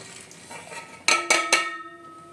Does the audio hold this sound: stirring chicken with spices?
yes